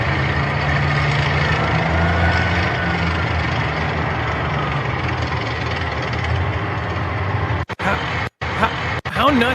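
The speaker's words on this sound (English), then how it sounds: "There's a tractor trailer driving by." A tractor trailer rolls past on a town street in Idaho, in front of a car dealership, its engine drone and tire roar loud and steady, then cut by a few brief dropouts near the end.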